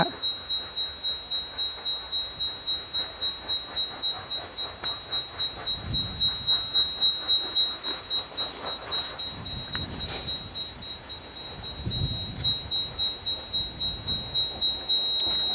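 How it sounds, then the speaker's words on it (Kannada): Rapid electronic beeping pulses repeat steadily from a ground water detector locating a borewell point, a fast regular rhythm with a steady high tone, and some low rumbling noise in between. "ನೋಡ್ರಿ ಬೀಪ್ ಸೌಂಡ್ ಬರ್ತೈತೆ"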